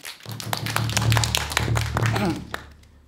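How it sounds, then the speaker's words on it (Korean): Audience applause at a Korean Buddhist lecture event, welcoming a professor to the stage: scattered claps build over a low hum, with a voice speaking over them. "여러분 큰 박수 부탁드리겠습니다"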